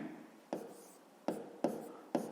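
A pen writes by hand during a fifth-grade math exercise, giving several short, faint scratching strokes with quiet gaps between them.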